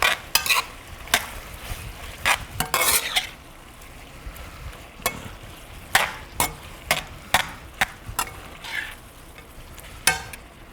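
Snow peas being stir-fried for pancit bihon, the Filipino rice-noodle dish, cooked in one pot: a steady quiet sizzle broken by repeated sharp scraping and clattering strokes of a utensil stirring through the pan, close by.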